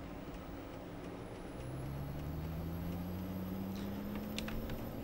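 Kenworth T800 truck hauling wall panels in Euro Truck Simulator 2, a low steady engine drone with a rising tone as it accelerates, a faint high whine above, and light clicks near the end.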